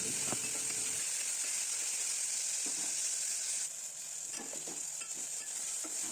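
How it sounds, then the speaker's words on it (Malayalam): Onions and tomatoes frying in a pan for a Kerala chicken and lentil curry, a constant bright sizzle with occasional stirring scrapes and clicks, no voices. "ഉള്ളിയും കൂടെ ഇട്ടുങ്ങാണ്ട് ഒന്ന് മൂപ്പിച്ചെടുക്കണം. പിന്നെ തക്കാളിയും കൂടെ ഇട്ട് കൊടുത്ത്"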